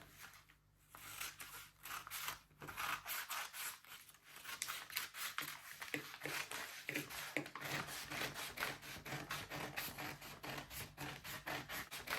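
Scissors cut through dress fabric along a one-shoulder and armhole line, making a close, quiet series of rapid rasping snips and rubbing scrapes that run almost continuously, with no speech.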